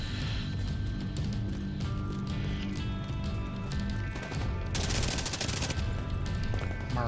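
Sustained gunfire from a firefight in The Division 2, with dense overlapping bursts and shots running the whole time over a busy game soundscape, loud and close, with no talking.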